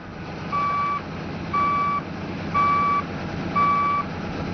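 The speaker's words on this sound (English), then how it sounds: "The alarm should automatically sound when the transmission is placed in reverse." A steady backup alarm on a reversing mining truck beeps four times at an even rhythm over a low engine rumble, moderately close, during a pre-operation inspection.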